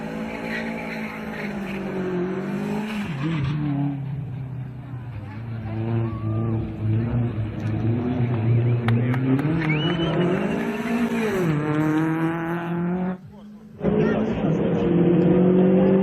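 Engine of a Dacia Sport coupe running loudly and close, its pitch climbing and dipping through revs with a brief dropout near the end, while a voice speaks over it.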